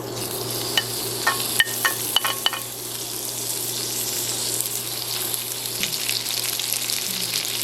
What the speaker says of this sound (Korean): 참기름을 이 정도 넣어주시고 그다음에 소고기랑 마늘을 같이 볶아주겠습니다